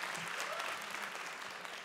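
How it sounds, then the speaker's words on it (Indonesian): Dense, steady crowd applause for a contestant at a stand-up comedy competition, a continuous wash of clapping at moderate distance. "Tepuk tangan dong untuk Irgi Argis."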